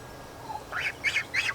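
A duck on a small farm lets out a few short, nasal calls in quick succession, fairly close and clear over quiet background.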